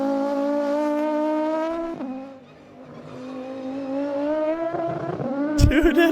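A 1990s BTCC touring race car engine screams past, a loud high-revving whine that dips as the car goes by, climbs again through gear changes, and ends with a sharp burst.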